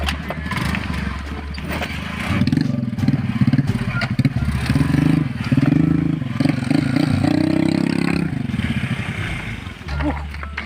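A motorcycle engine revs and drones loudly up close, rising and falling over about ten seconds with steady low rumble.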